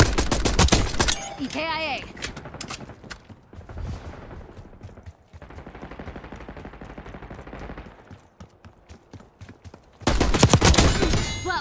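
Bursts of gunfire from the multiplayer shooter Call of Duty Black Ops 6, loud volleys at the start and again at the end, with quieter combat ambience between and a voice speaking briefly.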